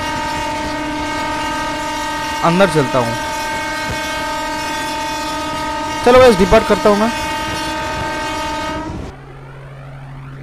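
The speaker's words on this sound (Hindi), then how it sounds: "फिर से अब हमारा हॉर्न बजाते हैं," Sealdah–Dankuni EMU local train in the Open Rails simulator, with a steady engine drone broken by two loud wavering horn blasts, one short and one longer, before the hum drops off; someone speaks briefly near the end.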